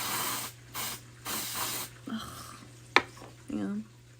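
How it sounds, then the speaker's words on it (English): Several bursts of dry shampoo (light tone) sprayed onto hair from a nearly empty can, giving short hissing sprays in a rhythmic series, followed by a few brief clicks and faint rustling under a steady low hum. "This is just dry shampoo light tone, and this one is almost empty."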